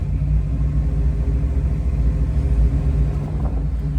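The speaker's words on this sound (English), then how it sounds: "when I slightly accelerate in neutral here, the car would shake. Like I was getting rumbles in the engine." A 1969 Buick Special Deluxe engine idling in neutral with a slight throttle, giving a deep, steady, close rumble with a faintly uneven pulse and no talk throughout.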